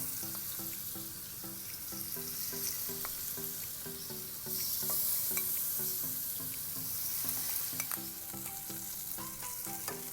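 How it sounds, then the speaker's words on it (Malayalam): Prawns frying in hot coconut oil for a Calicut-style dish crackle loudly and steadily up close, with repeated rhythmic knocks and scrapes of stirring throughout. "ഇപ്പോൾ എണ്ണ ചൂടായി വന്നിട്ടുണ്ട്. അതിലേക്ക് ഫ്രൈ ചെയ്യാനുള്ള ചെമ്മീൻ ഇട്ട് കൊടുക്കാം."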